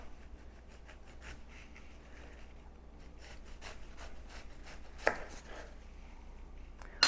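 A serrated knife saws through a watermelon in quick, repeated strokes, a faint scratchy rasping with a small crunch near the end, alone with no talk.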